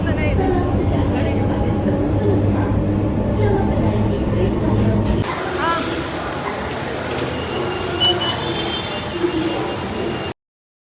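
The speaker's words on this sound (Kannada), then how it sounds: "ನಮ್ಮ ಕಡೆ ಎತ್ತಿನ ಗಾಡಿ ಹೋದಂಗೆ ಮೆಟ್ರೋ ಟ್ರೈನ್ ಹೋಗುತ್ತೆ, ಅಷ್ಟು ಸ್ಲೋ ಇದೆ." A slow Kuala Lumpur metro train ride heard from inside the carriage, a continuous low rumble and rattle of wheels on track, with a brighter shift in the noise midway through.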